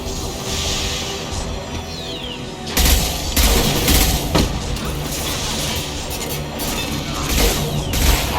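Sustained gunfire from the Mass Effect 2 video game, set on Omega during the Archangel rescue mission: rapid bursts and heavy impacts, loud and dense, with sharper blasts around the middle and no speech.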